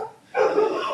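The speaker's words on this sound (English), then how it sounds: "Sorry if you hear my wacko dog barking in the background." A pet dog barks and yips in the background of an indoor home setting, starting after a brief quiet moment and continuing as a steady, fairly loud stretch of sound with no talk over it.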